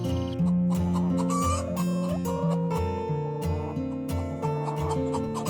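Cartoon chickens at a poultry farm cluck and squawk in a steady busy chorus over loud, dense background music, with no voices talking.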